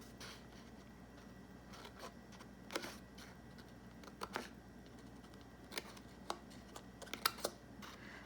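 Scissors snipping paper pieces for a Happy Planner, a few quiet, scattered crisp cuts and rustles over a faint steady hiss, with no talking.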